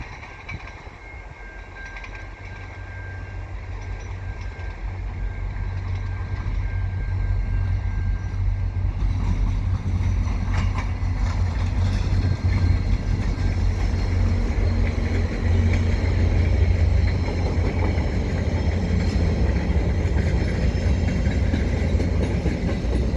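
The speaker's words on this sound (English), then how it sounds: "Probably a Via train." A VIA Rail LRC passenger train rolls eastbound across the Lachine Canal bridge with a steady low rumble and clattering wheels, growing louder and sustained for a long stretch.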